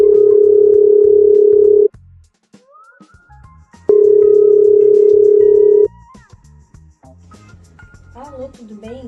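A telephone dial tone sounds in two steady, loud beeps, each about two seconds long and separated by a pause, while someone places a call; soft background sounds and faint voice-like noises fill the gaps.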